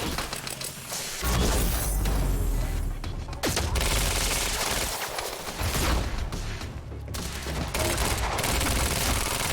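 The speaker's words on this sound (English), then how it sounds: "Just keep firing!" Sustained video-game gunfire from Quantum Break, dense bursts of automatic weapons and heavy impacts in a loud firefight that runs the whole time, with a brief lull near the middle.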